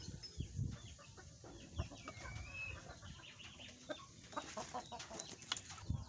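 Fighting-cock hens cluck softly close by, scattered short clucks and small scuffling thumps, faint and quiet throughout with no talk.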